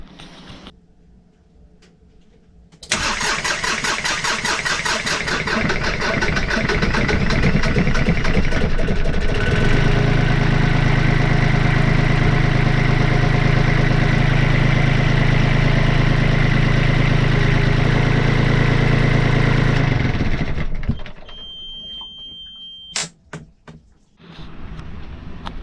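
A sailboat's engine, just fitted with a new alternator, starts abruptly and runs loud and steady for about seventeen seconds with a rough mechanical rattle, then shuts down, leaving a few faint clicks and knocks.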